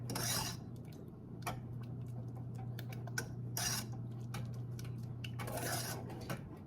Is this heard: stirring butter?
yes